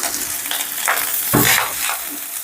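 Cooked rice tossed with vegetables in a pan for veg pulao, a close, loud hissing scrape as the spatula pushes through the grains in a few sweeping strokes.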